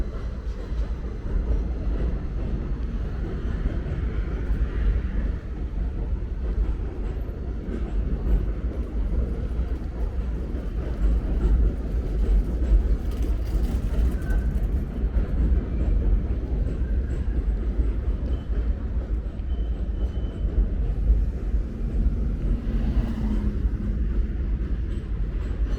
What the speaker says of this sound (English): You can see the shadow of the train creeping along over there.